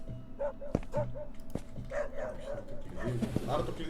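Dogs bark in the horror video game IBLIS: sharp, repeated yaps and barks at irregular intervals, moderately close, sounding under and between steady talking from players.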